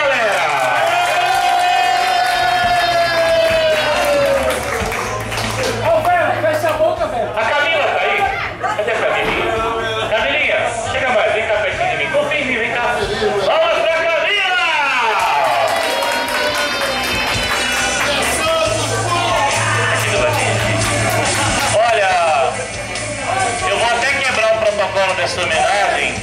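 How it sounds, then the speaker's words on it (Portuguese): A large crowd claps, cheers and whoops at a celebration, making a dense, loud roar of applause and excited voices that continues without pause. "Uma salva de palmas, galera!"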